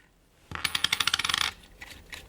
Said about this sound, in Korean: 손잡이를 꼽으실 때는 이쪽에 동전으로 요 플라스틱 카바를 열고